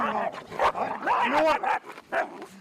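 Young puppies at a police canine training center in Zaporizhzhia yip, whimper and bark in short, close bursts, some squeaky and rising, with brief gaps between outbursts and no clear speech.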